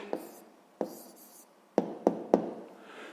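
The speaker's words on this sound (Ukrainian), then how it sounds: "зараз записуємо відповідь" A pen scratches out an answer to a sixth-grade maths exercise by hand, with short close strokes and a few sharp taps against the paper as the figures are written.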